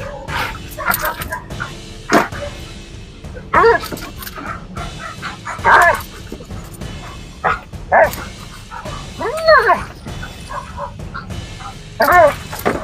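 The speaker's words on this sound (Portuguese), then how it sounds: "Nossa, Nick, o que aconteceu com a cadela?" A German Shepherd bitch gives a series of short, close barks and yips spaced over several seconds, with higher whining calls between them.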